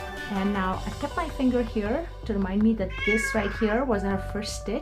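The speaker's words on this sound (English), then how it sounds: "You can hear my cat behind me." A pet cat meows in the background while a person talks steadily over it, explaining a crochet stitch; the meows rise and fall in pitch and stay behind the voice.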